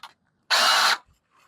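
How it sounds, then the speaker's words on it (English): A screw gun driving a screw while a copper and aluminum J-pole antenna mount is secured in an attic: a single short, loud whir lasting about half a second, close by, with brief quiet handling sounds around it. "I'm gonna hit it with the screw gun again"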